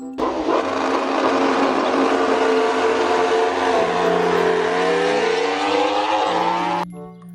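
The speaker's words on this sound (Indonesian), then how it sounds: "Muncullah motor balap." A toy-style racing motorbike engine sound effect roars steadily and loudly for several seconds, with a sustained whining drone that cuts off abruptly near the end.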